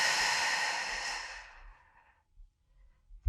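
A long, loud exhale during a leg workout, breathy and fading over about two seconds, followed by a couple of soft, short breaths.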